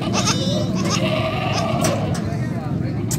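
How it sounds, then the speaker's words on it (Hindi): A desi-type goat with her two kids at a goat market in Faisalabad bleats in short, repeated cries over a busy background, with people talking nearby. "ये बकरी है और ये बकरी के साथ ही दो बच्चे"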